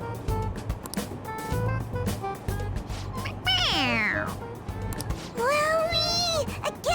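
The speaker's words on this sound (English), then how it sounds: "It meows when you press on its head." Two bright, drawn-out electronic meows from a toy cat in the video game Persona 5 Royal ring out close and loud, separated by a pause, over a busy backdrop of clicks and low hum.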